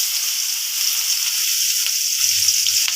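Steady oil sizzle of onions frying, a continuous bright hiss with small crackles, close and fairly loud, with no voices.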